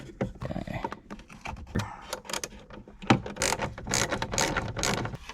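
A ratchet working loose the 7mm bolts on the gauge cluster of a 1999–2005 Pontiac Grand Am, a busy run of quick clicks, scrapes and clanks close up with no speech.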